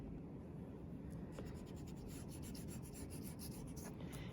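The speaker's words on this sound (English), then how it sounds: "then I can erase the side that I don't like" A pencil eraser rubs out an outline drawn on burlap, quiet close scratchy strokes repeating in quick back-and-forth bursts, growing busier toward the end.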